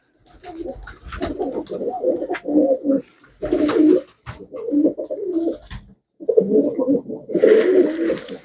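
Pigeons coo in repeated low, throaty bursts, several birds close by, with short pauses between phrases and a brief higher fluttery rustle near the end.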